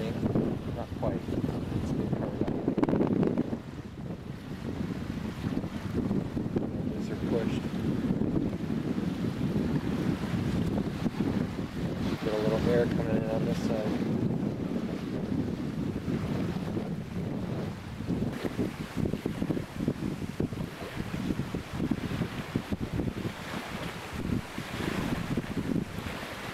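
Steady wind blows over the microphone around a full-size vertical axis wind turbine kit turning at about 70 RPM in a 10 to 15 mph breeze, a continuous broadband rush with gusty swells throughout.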